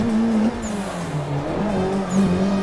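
A car drifts through a mountain pass in a racing video game, its engine droning steadily while tires squeal in sustained, wavering slides and the revs rise and fall throughout.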